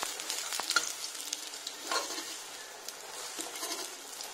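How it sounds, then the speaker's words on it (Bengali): Pakoras fry in hot oil, a soft continuous sizzle with occasional sharp crackles and stirring scrapes, close but fairly quiet, with no voices. "তার পকোড়াটা একদম গরম গরম ভাজার চেষ্টা করছি"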